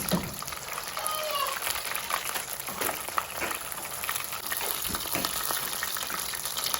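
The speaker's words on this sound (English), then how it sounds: "they will splatter a little bit more than the potato tacos just because of the beans" Bean flautas frying in hot oil, a steady close sizzle with sharp popping splatters scattered throughout and a voice talking over it.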